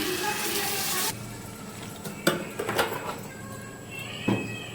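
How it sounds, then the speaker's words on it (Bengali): Water poured into a pan of sizzling chicken curry, a loud rushing hiss that cuts off abruptly, followed by quieter bubbling and scattered clinks of stirring. "এবার জল দিয়ে দেবো।"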